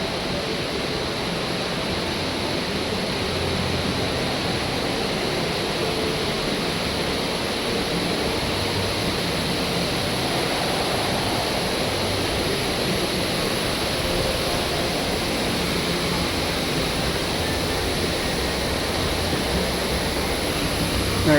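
Water fountains splash and cascade in an indoor patio atrium at the Grand Ole Opry in Nashville, a steady, even wash of falling water that continues unbroken at moderate loudness.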